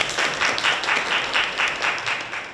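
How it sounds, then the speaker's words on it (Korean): An audience at a debate forum on the emotional labor of sales workers in Busan applauds to welcome the panelists, a dense burst of clapping from many hands that holds steady and then begins to fade. "큰 박수로 맞아주시기 바랍니다"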